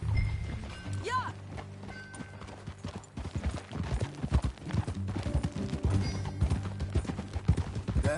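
Hooves clip-clop at a steady trot in Red Dead Redemption 2, growing louder and busier in the second half, with a brief whinny early on and faint voices.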